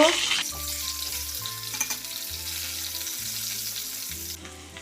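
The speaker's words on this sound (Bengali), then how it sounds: "এদিকে আলুটা ভাজা হচ্ছে" Salted, turmeric-coated potatoes fry in hot oil for chicken biryani, giving a loud, steady sizzle with a few clinks, the frying noise carrying through on its own without talk.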